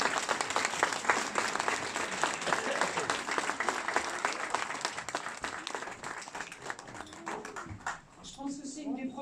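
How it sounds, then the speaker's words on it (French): An audience in a media library applauds a demonstration by young firefighters: sustained, dense clapping for several seconds that thins toward the end, where a voice briefly comes through. "Je crois qu'on peut les applaudir pour cette démonstration."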